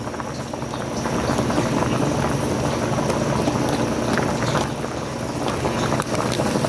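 Sinigang sa miso with okra and sweet potato leaves bubbles at a steady rolling boil in a pot, a dense continuous seething hiss with tiny pops, fairly loud and close, no voices.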